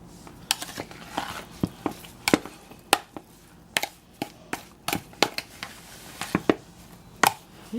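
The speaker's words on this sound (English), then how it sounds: "I'll stir it up." Beef tossed in flour is stirred in a pan with vegetable oil, making a quick run of close clinks, scrapes and soft knocks in an irregular rhythm for beef stew.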